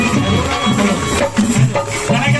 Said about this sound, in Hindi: जोरदार ताली जाओ उनके लिए